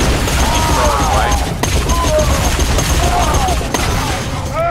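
Rapid bursts of gunfire from Borderlands 2 crackle in quick succession over continuous game noise and whooshing effects, loud and dense throughout, with brief gaps between volleys.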